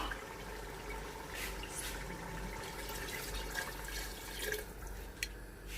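Water pours in a soft continuous trickle into a cooking pot of aloo gosht meat, a faint steady stream with no talking.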